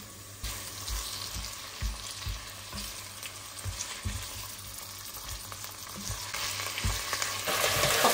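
Meat frying with golden onions in a pan for Persian tahchin, a steady close sizzle with repeated stirring scrapes and clunks throughout.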